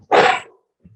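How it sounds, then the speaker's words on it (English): A dog lets out one short, sharp bark close by, followed by near silence and a faint low sound. "Sorry, that was my dog"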